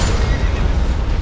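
Horse whinnying in Elden Ring, a loud, close, brief neigh with rough rumbling undertones.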